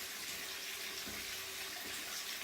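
Bathwater pours steadily from a tap into a bathtub, a continuous broad hiss and rush of running water with no voices.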